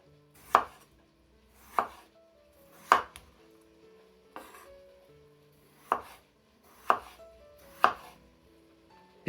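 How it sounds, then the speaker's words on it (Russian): A knife chops steadily through potatoes on a cutting board, cutting them into layers, seven or eight distinct thuds spaced about a second apart, close and clear. "Картофель нарезаем вот такими вот слоями."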